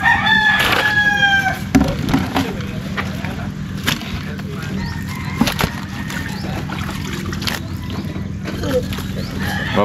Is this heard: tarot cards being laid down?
no